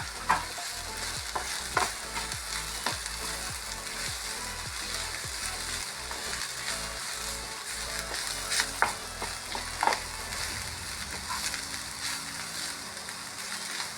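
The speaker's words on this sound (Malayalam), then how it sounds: "ഒന്നര സ്പൂൺ ചില്ലി ഫ്ലാക്സ്, നന്നായിട്ട് മിക്സ് ആക്കാം." A spoon stirs masala with chili flakes around a hot pan, with steady frying sizzle and repeated scraping strokes at a close, even level, no voices.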